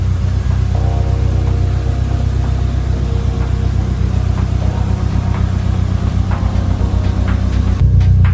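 A Toyota KE70 Corolla engine runs steadily on a test drive, a loud, continuous low rumble with some shifts in pitch, heard close and alone.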